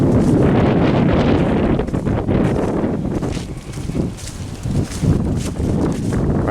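Breezy outdoor wind on a cool day among bare trees and scattered leaves, a loud continuous rumble buffeting the microphone with gusty swells throughout.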